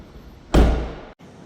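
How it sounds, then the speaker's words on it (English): A 2025 BMW X3 30 xDrive has one of its doors shut with a single solid, heavy thunk up close, followed by a brief ringing decay that cuts off sharply. "So let's shut this door,"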